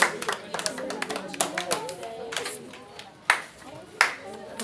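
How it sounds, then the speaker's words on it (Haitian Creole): A studio audience on a children's TV show claps for a young guest, sharp scattered hand claps in short bursts mixed with talking. "applaudissez Bedjina."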